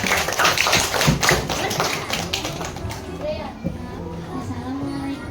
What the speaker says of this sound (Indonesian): Tepuk tangan dulu dong biar semangat.